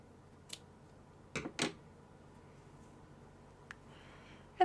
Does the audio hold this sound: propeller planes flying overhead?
no